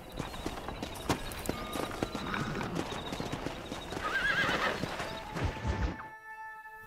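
A horse in the video game Red Dead Redemption whinnies amid steady clip-clopping hooves on hard ground, the hoofbeats continuing for several seconds before the sound cuts off abruptly, with no talking.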